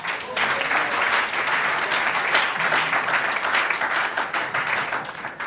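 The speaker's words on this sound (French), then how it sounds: "Il faut acclamer pour les femmes." A congregation at an Easter Mass applauds for the women, steady dense hand clapping from a crowd that fills the whole stretch with a roomy, even sound.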